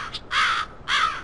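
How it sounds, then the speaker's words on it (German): A raven in a graveyard in the video game Black Mirror 3 gives two loud, harsh caws close by, with a short pause between them and a faint call just before. "Irgendwie kommen jetzt noch mehr Raben, habe ich das Gefühl."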